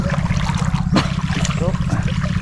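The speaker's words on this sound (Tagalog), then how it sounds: "Agos talaga yun, no? Ganda ng agos." Strong flood water current rushing past, a steady loud churning flow close by with a low motor-like hum underneath and a brief splash.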